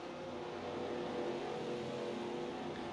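Race car engines in a racing video game at North Carolina Speedway drone steadily and loudly as cars pass at speed, a continuous engine roar with no voices.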